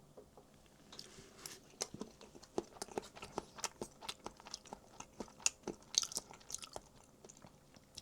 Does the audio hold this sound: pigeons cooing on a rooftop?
no